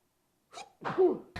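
A single sharp sneeze with a quick intake of breath, close and loud, followed by a brief noise at the very end.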